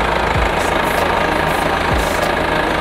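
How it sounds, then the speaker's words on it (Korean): A Mercedes-Benz CLS250 d diesel engine idles steadily in the engine bay, a loud, even low rumble with a faint rhythmic diesel clatter and no talk. "엔진 소리 일정하네요"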